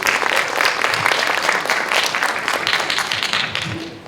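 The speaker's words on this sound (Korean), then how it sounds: "큰 박수로 맞아주시기 바랍니다" An audience at a 2025 youth village project briefing gives loud, sustained applause welcoming a presenter, a dense even wash of clapping that tapers slightly at the end.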